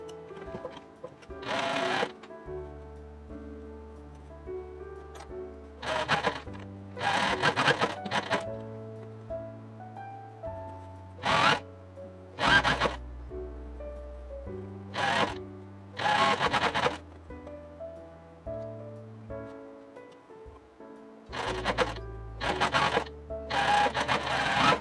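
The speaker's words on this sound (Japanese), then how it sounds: "前後のラグラン線を縫います" A sewing machine stitches raglan sleeve seams in short whirring bursts, each run a rapid mechanical chatter lasting a second or two, separated by quiet pauses, close and clear with no speech.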